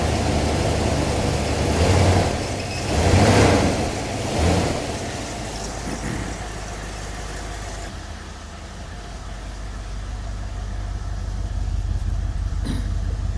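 An old car engine runs with a loud, close rumble that swells in a few revs early on, then settles into a steady idle.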